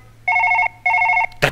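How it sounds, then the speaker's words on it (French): A telephone in the video game Surgeon Simulator rings with two loud electronic bursts of rapid trilling, and an abrupt clatter follows at the very end. "le téléphone sonne"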